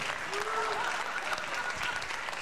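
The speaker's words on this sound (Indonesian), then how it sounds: "Tepuk tangan yang meriah buat Joko Widodo." Crowd applause at a live Indonesian stage comedy show, steady dense clapping filling the room, with a voice shouting over it.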